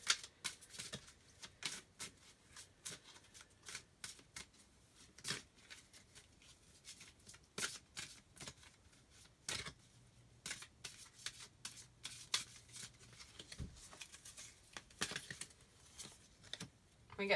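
Romance Angel oracle cards are shuffled over and over in a long run of crisp riffling and slapping bursts, up close, with no voice over them.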